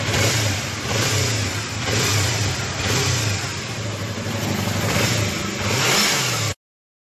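Motorcycle engine revving in a repair setting, likely a Yamaha MT-25, a loud, close, rough engine note that swells and eases in repeated throttle blips over several seconds, then cuts off abruptly.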